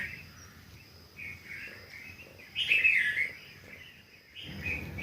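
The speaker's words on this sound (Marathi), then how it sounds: "पक्ष्यांची चिवचिवाट हे मधुर संगीत" Birds chirp and twitter in the morning in short bursts over a soft outdoor background, one nearer call standing out midway, with fainter calls around it.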